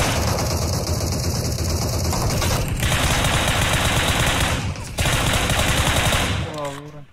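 Rapid automatic gunfire rattles loud and close in an online multiplayer shooter game, sustained bursts with short breaks and an engine rumble underneath.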